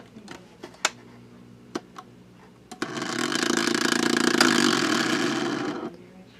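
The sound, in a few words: phonograph motor rubbing on loose bushing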